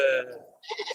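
Goats bleat at the Ettayapuram Friday livestock market, with one close, wavering call followed by a brief second cry.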